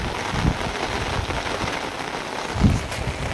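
Light rain patters steadily over a farm field, a soft continuous hiss with a couple of dull low thumps.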